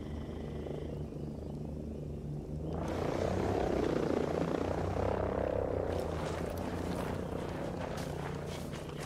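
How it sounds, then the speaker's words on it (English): An enemy helicopter in the Ghost Recon Breakpoint video game drones with a steady rotor hum that swells louder and closer midway, then holds as a broad continuous roar without talk. "I got eyes on an enemy chopper."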